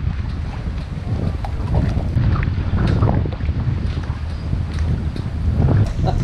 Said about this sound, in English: So all the wind's blowing towards us